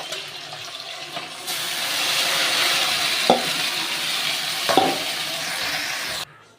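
Pabda fish with ground spice paste frying in a wok, a steady close sizzle that swells after the first second, with a few sharp clinks and spatters from stirring.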